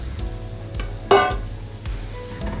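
Chopped zucchini, potato, carrot and celery are stirred in a soup pot, with a spoon scraping and knocking against the pot in a few rhythmic strokes over a soft sizzle, and one sharper metallic clank.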